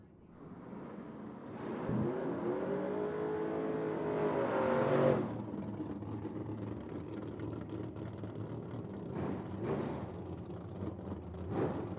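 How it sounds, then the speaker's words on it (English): Drag racing cars at a Medicine Hat, Alberta summer event roar through burnouts, a sustained loud engine howl with rising pitch cutting off sharply, then lower rumbling idle and revving. "Burnouts are done."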